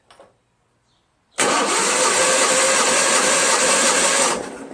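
An Onan 16HP opposed twin-cylinder engine on a Toro Wheel Horse 616Z zero-turn mower cranks and fires, then roars at a steady, loud idle for about three seconds before cutting off, with no talk over it.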